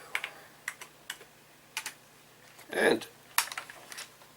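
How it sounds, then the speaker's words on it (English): Keys tapped on an old home computer keyboard in short, separate clusters of clicks, close and quiet, with a brief spoken word partway through. "let's just hit stop and type in list"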